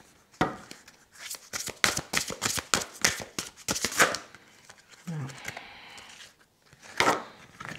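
Oracle cards shuffled for a reading, with a quick flurry of riffling and slapping card sounds close by, then a pause and a few more taps.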